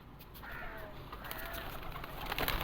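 Teddy Rampuri pigeons in a Lahore loft, faint bird calls and soft coos rising over a quiet background, brief and low in level.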